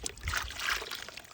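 Water runs and trickles while gold is panned from clay, a brief, soft, steady splashing pour heard close and without talk.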